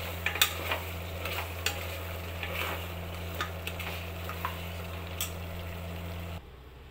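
Mutton curry with freshly ground masala, chilli powder and coriander powder cooks in a pan, giving a low steady simmering hum with soft scattered sizzles and occasional light clicks of stirring, fairly quiet and without voices, ending in a brief hush.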